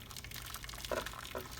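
Water poured from a kettle or jug into a baking pan of caramel custards, two short splashy bursts close by over a quiet kitchen background.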